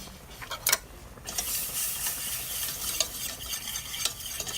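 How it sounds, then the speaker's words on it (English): Whisking a mac and cheese sauce in a pot off the heat, a steady run of quick scraping and light metallic ticks with a faint sizzle underneath, close up. "Whisk it together."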